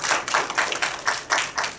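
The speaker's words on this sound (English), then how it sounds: "Please give him a round of applause." An audience at a talk claps in applause, a lively patter of many hands with uneven surges, close and fairly loud, without any speech.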